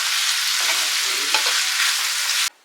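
Chicken pieces frying in plenty of oil for biryani, a loud, dense, continuous sizzle close by with a few soft shifts as pieces move, cutting off abruptly at the end.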